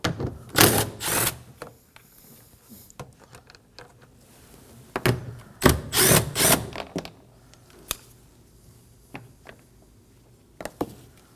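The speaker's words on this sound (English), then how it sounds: "Using a 10mm socket, go ahead and remove them." A 10mm socket removing bolts from a Nissan Armada door panel, short bursts of ratcheting and whirring tool noise with clicks and handling sounds between, close by and without talk.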